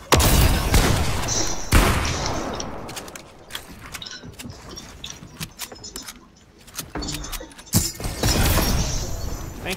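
Gunfire in Fortnite, a mix of sharp shots and bursts with thuds and clatter amid game noise, loud near the start and end with quieter stretches between.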